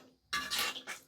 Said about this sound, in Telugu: పాలు హల్వాలో బాగా కలిసేలాగా కలుపుతాను.